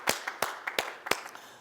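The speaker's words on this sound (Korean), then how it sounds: "박수로 영광 돌리겠습니다." A few sharp hand claps ring out in an irregular rhythm during a church worship service, close and fairly quiet, with a couple of softer claps between.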